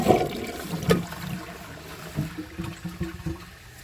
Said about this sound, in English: I'm going to let the tank fill up and then do another flush